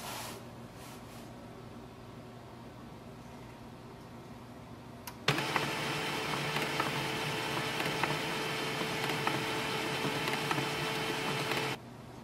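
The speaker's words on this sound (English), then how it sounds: "Now the printer will restart and then it will go into the setup mode." An HP LaserJet Tank 2504dw printer restarts into setup mode: a few soft clicks, then a sudden steady mechanical whir and hum that runs for several seconds before cutting off abruptly.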